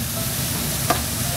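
A pan of food frying over a hot stove while being stirred, with steady sizzling throughout and one brief scrape or clink near the middle, heard close and without talk.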